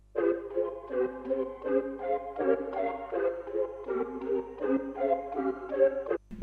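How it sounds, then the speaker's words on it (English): Vintage keyboard chords chopped by an Effectrix stutter preset into a stuttering, gated rhythm, repeating in short choppy bursts with brief gaps, fairly loud and alone. "I added the Effectrix, and it was just the stutter preset."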